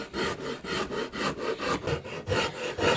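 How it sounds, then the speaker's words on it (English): A Shinto rasp, fine side, files away a corner of wood on a handmade guitar, giving steady rhythmic rasping strokes about twice per second, close and fairly loud with no talking. "I'm going to cut this corner off with the fine side."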